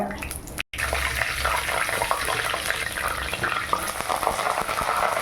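Spices frying in groundnut oil in a hot kadai make a loud, continuous, close sizzle, interrupted by a momentary dropout near the start.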